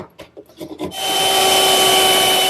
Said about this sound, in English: Here I'm knocking the corners off of the tenons on the leg